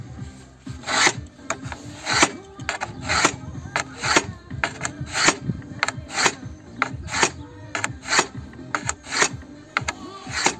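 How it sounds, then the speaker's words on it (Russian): Screwdriver or knife tip scoring a ceramic wall tile, a repeated rasping scrape in steady strokes, close and fairly loud, with no talk. "Делаем надпил. Берем отвертку, либо ножик."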